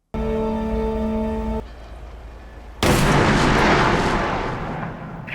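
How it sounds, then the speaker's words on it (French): Gunshot in the zombie film Dawn of the Dead: a sustained tonal hum gives way to quieter rumble, then a sudden loud burst of broadband noise that lingers and slowly decays like a reverberant blast. "au loin, on va entendre un coup de feu."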